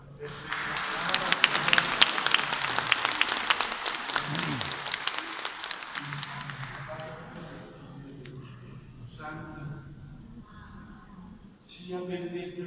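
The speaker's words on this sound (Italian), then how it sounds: "Facendo ancora sempre un grande applauso per questa brava." Congregation in the church of Santa Maria della Pace applauding a performer: a strong burst of many hands clapping that fades after about six seconds, followed by quieter sounds and voices.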